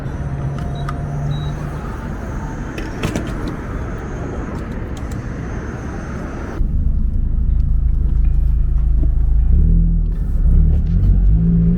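A Mazda ND Miata fitted with a Tomei and GWR midpipe exhaust revs loudly, a steady engine drone giving way to a deeper, heavier rumbling roar for the second half.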